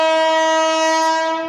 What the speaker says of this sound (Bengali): তো দেখো ট্রেন ঢুকছে এদিকে।